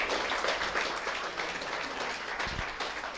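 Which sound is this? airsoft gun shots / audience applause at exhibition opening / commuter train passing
audience applause at exhibition opening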